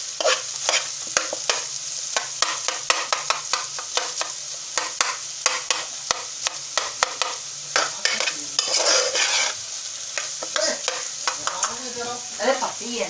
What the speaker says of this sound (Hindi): गाजर को खूब अच्छे तरीके से आप लोग भून लेंगे।